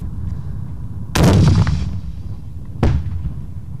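A grenade launcher fires on a military range: two sharp, loud blasts about a second and a half apart, each decaying quickly into a low rumble over steady outdoor background noise.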